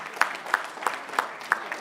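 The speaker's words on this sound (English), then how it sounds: "you will clap better than this" Sparse clapping from a panel session audience, a handful of separate claps landing at an even, unhurried pace over a quiet room.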